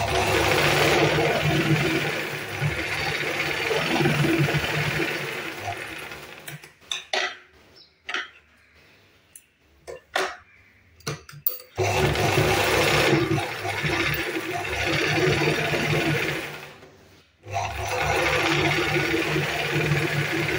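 A sewing machine stitches a blouse seam in loud mechanical bursts, running steadily for several seconds, pausing with a few short clicks, then running again in long close stretches with no talk.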